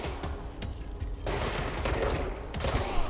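Shotgun buckshot blasts from the video game Control ring out in a rapid flurry of booming reports layered over other gunfire and game action, loud and dense.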